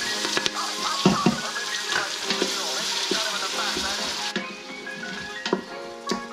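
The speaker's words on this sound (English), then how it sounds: "Starting to hear our pot sizzle, so let's get over here and grab all of our veggies." Vegetables sizzling in a hot pot as they are tossed in, a steady close frying hiss with clinks and scrapes of stirring utensils throughout, and no talk.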